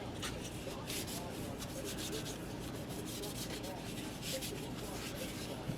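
A gun cleaner being rubbed on by hand, a steady, close, scratchy rubbing that runs without a break from start to finish.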